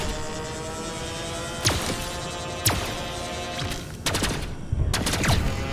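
Enemy gunfire in Pulsar: Lost Colony sounds as a few sharp, scattered shots and short bursts over a steady electrical hum, moderately loud, with no talk during it.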